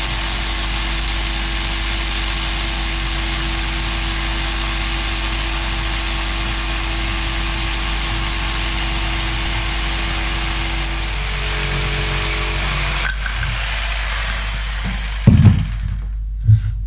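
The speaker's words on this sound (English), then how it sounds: "lock them securely into the vise and cut them out with a jigsaw" A jigsaw cuts pieces clamped in a vise for a PCP scuba tank holder, a steady motor buzz running for about thirteen seconds before it stops, followed by a few short knocks and clatters near the end.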